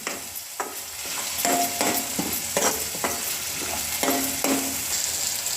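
A spoon scrapes and stirs masala frying in oil in a pan, with repeated scraping strokes over a constant close sizzle and no talk.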